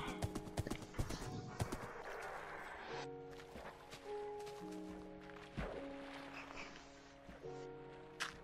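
A horse in Minecraft clip-clops along with rhythmic hoofbeats and neighs a few times, fairly close, over soft tonal game music, with no one speaking.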